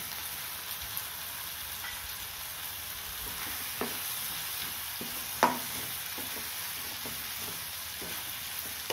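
Peeled, sliced potato sautés in a pan with curry leaves for a Tamil coconut dal curry, a faint steady sizzle broken by occasional soft spoon scrapes and taps.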